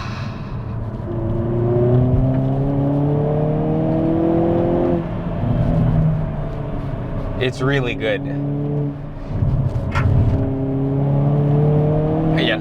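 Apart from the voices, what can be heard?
Hyundai Kona N engine revving and downshifting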